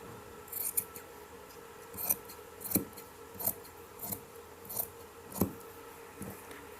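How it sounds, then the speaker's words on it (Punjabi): Scissors cut through fabric for a pleated kurti in a series of quiet, close snips at a roughly regular pace against a faint background hum. "ਇੱਥੋਂ ਅਸੀਂ ਹੁਣ ਇਹ ਵਾਲੀ ਕਟਿੰਗ ਕਰ ਲੈਣੀ ਹੈ ਜੀ"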